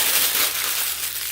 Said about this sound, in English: to take the parchment paper and actually crinkle